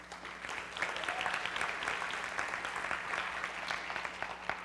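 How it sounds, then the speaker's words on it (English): Conference audience giving a round of applause for the event organizers, a steady dense patter of many hands clapping that holds at an even level throughout, with a low hum beneath. "Everybody give them a round of applause."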